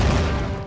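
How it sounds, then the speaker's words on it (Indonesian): In a Roblox game, an explosion goes off as one loud, deep burst that quickly fades into a rumbling tail. "malah meledak"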